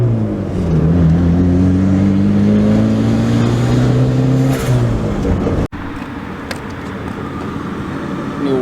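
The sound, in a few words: Honda Prelude turbo F20B engine running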